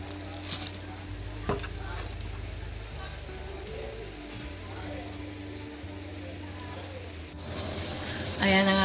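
Water runs steadily with a low hum underneath, then a louder gush of spray bursts in near the end.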